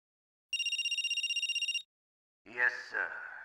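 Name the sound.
phone ringing in video game Metal Gear Solid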